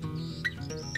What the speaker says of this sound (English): In the sky a bird was heard to cry.